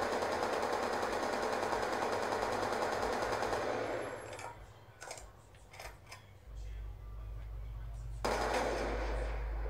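Video game machine gun fire rattles loud and continuous for about four seconds, followed by a quieter stretch of scattered shots, clicks and game sounds with a voice speaking.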